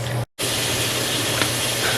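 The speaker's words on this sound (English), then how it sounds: "the water is boiling" Water boiling in a pot on a home stove for red beans and rice, a steady broadband hiss and rushing bubble noise with a low hum beneath, broken by a brief dropout near the start.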